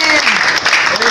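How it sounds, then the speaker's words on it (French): A church congregation applauds during a deliverance service, dense clapping filling the whole moment with voices mixed in. "Applaudissez."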